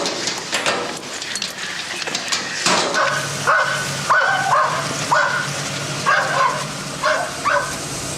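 Dogs in a 1997 Corpus Christi, Texas dog-fighting case give short, rough barks and yips, some close by and some further off, mixed with whimpering over noisy outdoor commotion.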